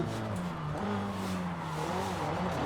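A car skidding and spinning out in the racing game Forza Horizon 5, a sustained engine drone with shifting pitch and a tire squeal running continuously for a few seconds.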